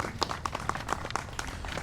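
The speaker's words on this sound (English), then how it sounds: "that's worth clapping for" Audience applause at a government announcement of added funding for West Side flood remediation: scattered, irregular clapping at moderate level that holds steady for a couple of seconds.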